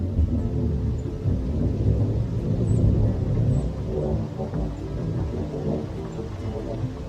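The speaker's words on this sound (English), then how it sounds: "Outside the window, a storm is brewing." A thunderstorm brews outside a window: a loud, continuous low rumble of thunder rolls on without a break, with rain beneath it.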